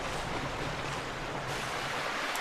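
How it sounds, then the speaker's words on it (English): Water flows steadily down a ramp through an opened waterway in Zelda: Twilight Princess HD, a constant, moderately loud rushing wash with no voices. "As you can see, down that ramp, there's now flowing water."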